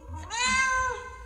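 A single clear cat meow, close and loud, rising and falling over about a second with little else around it.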